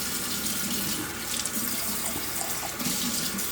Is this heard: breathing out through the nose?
no